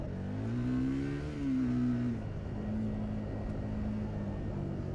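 A Triumph Scrambler 400X motorcycle riding off-road, its engine droning steadily and rising and falling in pitch as it revs, close and continuous with no talking.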